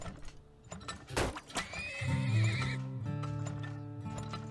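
Horses in the video game Turmoil whinny loudly in long, wavering neighs, preceded by a few clopping hoof strikes and a sharp snort, all close and clear with no talk.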